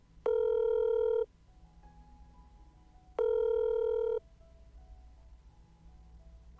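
A Korean phone ringback tone purrs twice, each long electronic burr lasting about a second with a pause between, over a quiet background with no answer.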